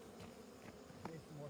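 Honeybees buzz from an opened hive during wax-frame work, a faint, wavering drone with a few brief louder tones, close by and quiet.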